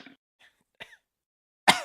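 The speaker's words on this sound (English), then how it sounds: "One small cough." A few brief, scattered throat sounds followed by one short, sharper cough close to the microphone, with quiet gaps between them.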